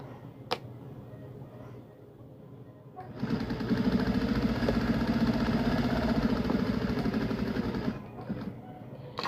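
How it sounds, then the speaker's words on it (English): A sewing machine stitches a 5/8 inch seam, starting after a quiet pause with a steady rapid whirring hum for about five seconds before stopping. "doing the same thing, sewing the 5/8 inch seam allowance"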